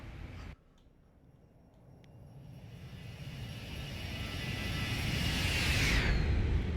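A Boeing 737 jet in a Zibo 737 flight simulator makes a flyby, with a jet engine whine and roar building steadily from quiet to loud, peaking in a sharp high-pitched sweep as it passes close by.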